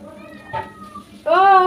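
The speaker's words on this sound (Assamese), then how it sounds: "মেকুৰীয়ে মাত দি আছে একদম" A cat meows nearby, a short call followed by a louder, drawn-out meow.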